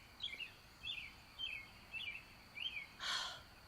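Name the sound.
bird chirping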